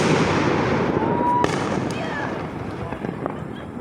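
Fourth of July fireworks burst one after another in a neighborhood, a dense crackling wash with sharp pops and booms over a steady rumble, loud and continuous throughout.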